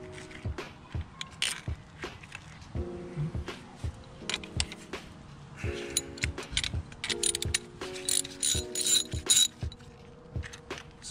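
Ratchet clicking rapidly as it backs out a coil pack stud on an Audi RS7 engine, several close bursts of fine metallic ticking with brief pauses and tool clinks between them.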